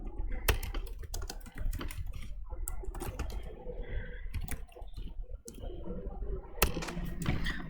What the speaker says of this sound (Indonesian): Tinggal ketikkan saja.